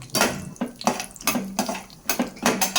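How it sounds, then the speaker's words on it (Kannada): Cashew nuts dropped into hot ghee in a pan for a pumpkin halwa, giving a run of bright crackling sizzle bursts and light metallic clatters that recur every half second or so, close and moderately loud with no voices. "ಈಗ ತುಪ್ಪ ಕಾದಿದೆ ಗೋಡಂಬಿಯನ್ನು ಹಾಕ್ಕೊಳ್ತಾ ಇದ್ದೇನೆ ಇದನ್ನು ಸ್ವಲ್ಪ ಹೊಂಬಣ್ಣ ಬರೋವರೆಗೂ ಫ್ರೈ ಮಾಡ್ಕೊಳ್ಬೇಕು"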